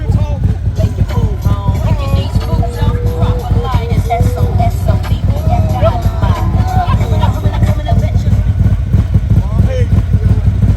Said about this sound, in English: Hey, just the sound of this bike, it feels like I'm in a motorcycle club.